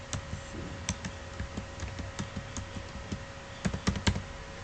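Password being typed on a computer keyboard while configuring a cloud database service: a steady run of sharp, close key clicks in an irregular rhythm, with a few louder strikes near the end and no voices.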